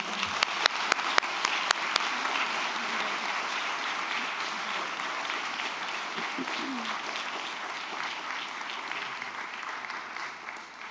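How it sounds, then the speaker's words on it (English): Steady applause from an audience at a school board meeting, with some distinct claps early on, moderately loud and sustained for the whole stretch. "Round of applause for them."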